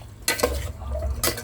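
A spoon stirring sinampalukang manok, chicken soup with tamarind, in a pot: two quick close scraping strokes against the pot over a low simmering hiss, with no voices.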